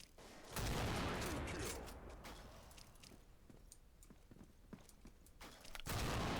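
Grenade launcher fire in the video game Counter Strike Online 2: heavy booming bursts open and close the stretch, with a run of sharp scattered shots and clatter between them.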